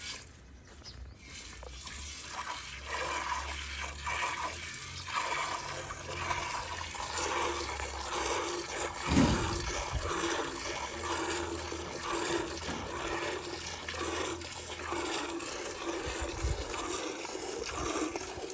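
Hand-milking a Cholistani Friesian cross cow into a bucket: steady streams of milk hiss and splash into the pail, continuing close up through the whole stretch with no talking.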